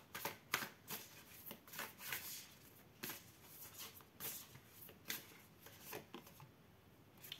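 Tarot cards are shuffled and drawn by hand in quick, papery riffles and soft slaps, repeating in close, quiet bursts with no talking.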